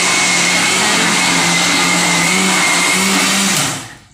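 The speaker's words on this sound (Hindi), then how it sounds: "अभी मम्मी पीसा थे मिक्सी में" Kitchen mixer grinder grinding washed urad dal, a loud, steady motor whine with coarse grinding noise that runs continuously before winding down at the end, with no talking.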